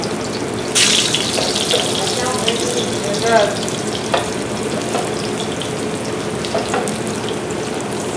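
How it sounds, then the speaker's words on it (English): Plantains frying in hot oil give a steady, broad sizzle and crackle throughout, with a few sharper pops and clinks of a utensil standing out against it. "we're going to fry our plantains in our oil"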